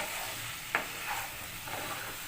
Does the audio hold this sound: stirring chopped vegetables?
yes